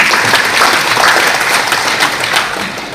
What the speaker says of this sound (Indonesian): Tepuk tangan dulu untuk kawan-kawan